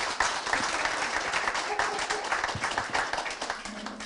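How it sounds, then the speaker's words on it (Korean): An audience at a Gwangju election campaign office opening claps to welcome a former presidential spokesman, steady dense applause lasting about four seconds with some voices mixed in. "박수로 환영해 주시기 바랍니다."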